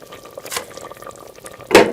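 Green chillies and garam masala are mixed into vegetables cooking in a pan for a mixed sabzi, with wet stirring and scraping and a faint sizzle, ending in one louder scrape, close by with no speech.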